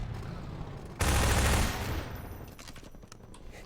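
Rapid burst of gunfire in Half-Life 2 as a crate is shot open, a dense loud volley lasting about a second, then fading into quieter game ambience.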